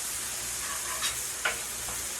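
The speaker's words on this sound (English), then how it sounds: "it's frying like crazy right there" Smashburgers sizzle steadily on a hot Blackstone griddle, a constant hiss with a couple of brief louder pops, close by and without talk.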